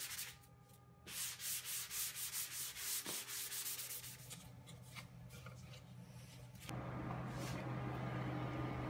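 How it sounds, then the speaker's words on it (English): Sandpaper rubbed by hand over a wooden flower press board, a run of rhythmic back-and-forth scratching strokes, then softer rubbing and a steadier, louder grinding pass near the end, close up with no voices. "I made a quick sanding pass to smooth it back down."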